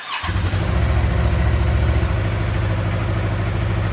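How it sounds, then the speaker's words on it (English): A Yamaha R3 motorcycle engine with a stock muffler starts cold and settles into a steady, low, fairly quiet idle that rumbles on without pause. "And that's a cold start. It's not loud at all."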